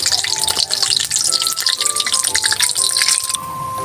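Canned sardines (tamban) sizzle loudly in a frying pan, a dense continuous crackle and spatter of hot oil with bright popping bursts throughout, no voices over it.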